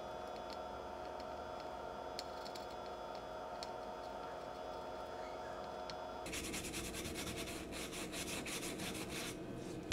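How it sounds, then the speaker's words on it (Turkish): Small scraping and rubbing strokes come from cleaning the MOSFET solder pads on a graphics card circuit board, faint and close, with a denser, harsher patch of scrubbing in the last few seconds. "Yataklarını güzelce şimdi temizleyeceğim."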